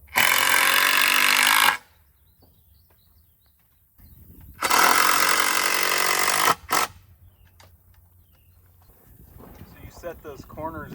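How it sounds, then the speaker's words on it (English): A skid steer fitted with a small auger bit drills holes for building piers, giving two loud sustained grinding bursts separated by quieter gaps, with people talking faintly afterward. "he's got a small auger bit we're going to throw onto the skid steer"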